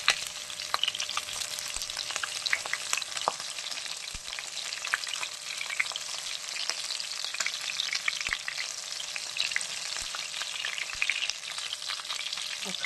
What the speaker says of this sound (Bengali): এই খোলাতে ভেজে নিচ্ছি,